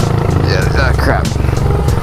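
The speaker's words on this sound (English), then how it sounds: "This is my first dirt bike ever." A rider's first dirt bike drones with a low, continuous engine rumble at close range while someone talks loudly over it.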